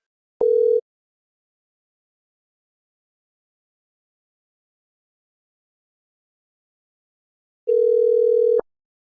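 A telephone line tone while calling: two short steady beeps far apart with total silence between them, the second tone lasting longer, clean and alone with no voices.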